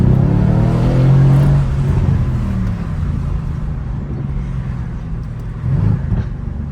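A Mercedes C63S engine runs loud and close, a deep throaty rumble that swells in the first couple of seconds, then settles into a steady low drone with a slight lift near the end.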